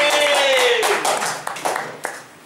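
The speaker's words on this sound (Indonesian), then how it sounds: "Tepuk tangan dulu." Audience at an open-mic stand-up comedy show at Komunikasi Plaza claps in a short burst of mixed applause, loud at first and thinning out over a couple of seconds, with a faint tone fading underneath.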